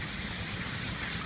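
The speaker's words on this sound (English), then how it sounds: "You love the rain." Steady rain falling outdoors near water by a dam during a thunderstorm, a dense, even hiss of drops that stays loud and constant throughout with no voices.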